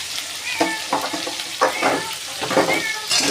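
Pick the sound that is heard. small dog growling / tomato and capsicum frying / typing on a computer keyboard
tomato and capsicum frying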